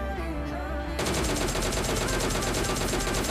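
Rapid automatic gunfire from PUBG Mobile Lite, a dense steady stream of shots that abruptly intensifies after the first second and continues loud and unbroken.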